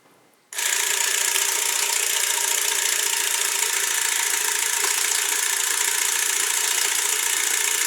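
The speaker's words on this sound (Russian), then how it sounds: "Сколько секунд крутит мотор, да?" A small camera motor starts abruptly and whirs steadily with a fine mechanical buzz, running loud and close without pause.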